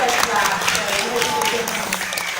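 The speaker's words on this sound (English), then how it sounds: "You can give him a huge clap for that." Audience clapping at a parrot show at Pleasurewood Hills in Great Yarmouth, brisk continuous applause at close range with a voice speaking over it.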